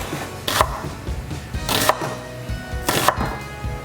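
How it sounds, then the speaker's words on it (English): A knife chops through a red onion into little strips on a cutting board, three distinct, evenly spaced strokes, close and crisp, with no talking. "I'm just gonna cut my red onion into little strips"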